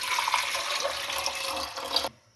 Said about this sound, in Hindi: इसे देचकी में डाल दें, इसमें पानी डाल दें।